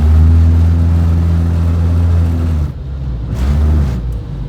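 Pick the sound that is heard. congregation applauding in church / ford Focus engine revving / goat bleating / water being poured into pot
ford Focus engine revving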